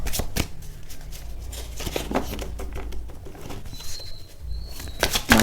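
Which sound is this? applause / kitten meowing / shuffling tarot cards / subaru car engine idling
shuffling tarot cards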